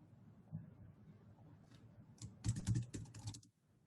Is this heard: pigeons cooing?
no